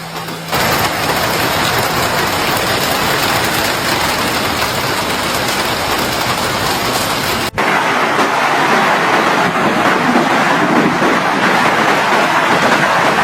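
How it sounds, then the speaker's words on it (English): Baseball-sized hailstones pound the pavement in Alberta, Canada, a loud, dense, continuous roar of impacts across the whole street with no letup and no voices. "Large stones struck the pavement, bouncing and shattering into smaller fragments, covering the entire street."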